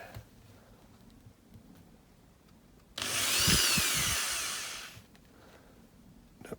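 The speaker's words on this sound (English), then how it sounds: "just going to get on and drill it" A power drill bores a hole through a diecast metal McDonnell Douglas DC-10 model plane, a single loud high whine lasting about two seconds, close up, with quiet room noise before and after.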